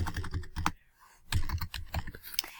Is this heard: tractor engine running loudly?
no